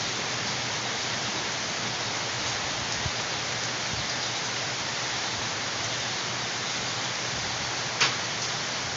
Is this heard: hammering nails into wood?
no